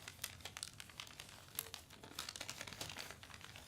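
A sheet of paper is folded downward, flipped over and creased, producing soft, close crinkling and rustling in short bursts at a low level.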